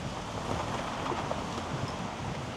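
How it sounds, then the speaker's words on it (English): Gale-force wind gusting along a seaside boardwalk in Costa Teguise, Lanzarote, a steady loud broadband roar buffeting the microphone for the whole stretch with no voices. "although very windy today, look. You can see it's blowing a gale."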